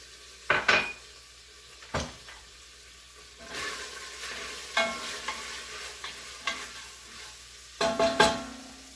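Oil hisses and crackles in a pan of garlic and herbs over a soft steady sizzle, broken by a few sharp clinks and scrapes of a utensil stirring.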